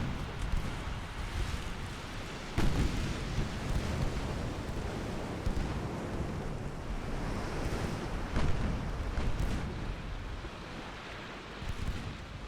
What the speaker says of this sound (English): There's another torpedo.